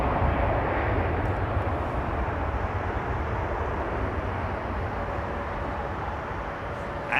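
An airliner with Pratt & Whitney engines takes off on runway 27R, producing a loud, continuous low-heavy roar that stays strong and fades only slightly toward the end, with no talking.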